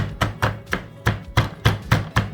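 Scallions for Jamaican curry goat are beaten on a hard surface in about ten evenly spaced, sharp, close thumps.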